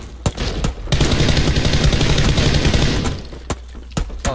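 Gunfire in PUBG Battlegrounds, a few sharp single shots, then a loud sustained burst of automatic fire, followed by more scattered shots.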